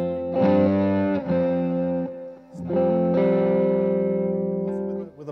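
Distorted electric guitar power chords with the third muted, played in two long sustained strums with a brief gap between them, thick and saturated with effects, loud and alone.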